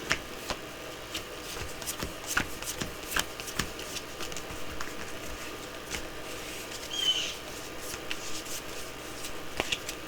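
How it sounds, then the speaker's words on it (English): Playing cards riffled and shuffled by hand on a tabletop for the Valley of the Kings deck-building board game, a run of quick crisp flutters and taps, close and alone. "I forgot to shuffle."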